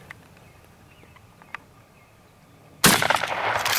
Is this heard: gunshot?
yes